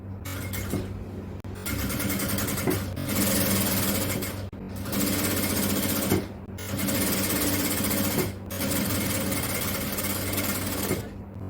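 A sewing machine stitches an XL jalabiya in steady, fast-running bursts of a few seconds each, separated by brief pauses, close and clear with no talking.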